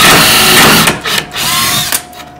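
A 3/16 drill bit bores straight down through a board with a loud, steady whine, easing briefly twice as the bit cuts through.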